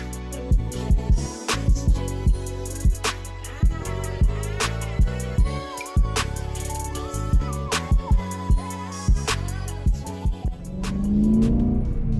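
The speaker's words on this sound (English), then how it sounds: "we're off for a drive in a very special car to me, the BMW M3 E92" A BMW M3 E92 with a six-speed manual revs hard on a drive, its engine note climbing and dropping through repeated sharp gear changes, loud and close with no voices.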